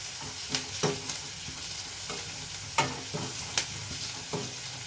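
Onions frying in a pan as a base for a curd tempering, a continuous close sizzle broken by repeated scraping stirs of a spatula, no one speaking.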